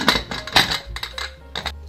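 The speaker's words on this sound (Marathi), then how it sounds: "कुकरचं झाकण लावून घेऊया" Several sharp metallic clinks and clatters of a pressure cooker lid being fitted on, close by, in short uneven bursts with a low hum underneath.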